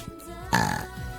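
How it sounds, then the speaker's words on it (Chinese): A single burp bursts out close to the microphone after a brief vocal sound, lasting under half a second before trailing off into quiet. "先打个嗝吧"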